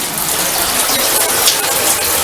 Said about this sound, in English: let me switch to the hot water